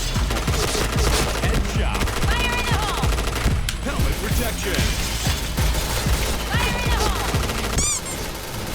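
Rapid automatic gunfire in the video game PUBG, dense repeated shots rattling loudly through the whole stretch, with a few faint higher electronic game tones over the top.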